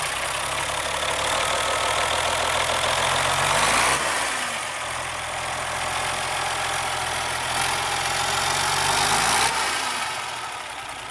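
A Hino K13C 380 hp diesel truck engine with an in-line pump revs close up. Its heavy rumble surges in two long pushes and drops back to a knocking idle between them, with no talking over it.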